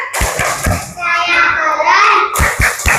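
Second-grade classroom children perform a rhythmic patterned clap, sharp hand claps in quick groups at the start and end, with a stretch of children's chanting voices in between, all close and lively.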